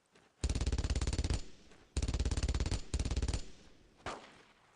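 Machine gun fire in the World War II shooter game Brothers in Arms: Road to Hill 30, coming as three loud, rapid sustained bursts and then a short single shot, with no voices over it.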